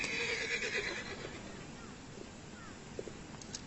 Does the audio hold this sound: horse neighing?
yes